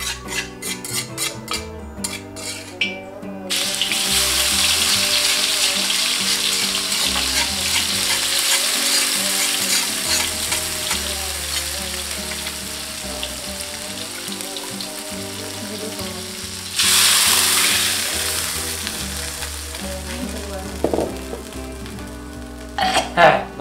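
Marsh snails fry in a pan with a steady, loud sizzle that continues throughout, stirred now and then and swelling in a brief hiss partway through, with a few clinks near the end.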